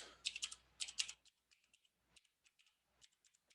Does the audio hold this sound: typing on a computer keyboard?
yes